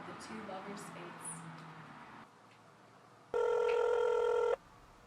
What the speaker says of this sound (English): Romeo, answer your phone.